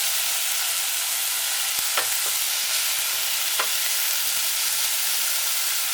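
Vegetables sizzle and saute steadily in a hot pan, a soft continuous hiss with a few brief clicks of stirring.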